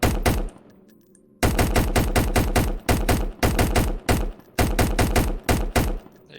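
A light machine gun fires in the video game Fallout: New Vegas, heard as close, loud bursts of rapid automatic shots with one short pause between them.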